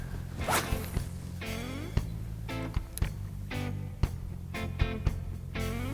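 Spinning reel line zipping out as a DOA BFL lure is cast toward tarpon in the Everglades, with several quick whirring swishes over a low boat hum.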